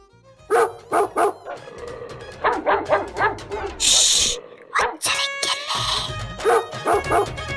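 A dog barks repeatedly in sharp bursts close by, with yips and whimpers among them and some voices and background noise mixed in.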